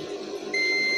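A multimeter's continuity beep sounds as a probe touches the ground path of a Riland Pro 160 welding machine that will not weld. A steady, fairly loud high tone starts about halfway through and holds to the end over faint background noise.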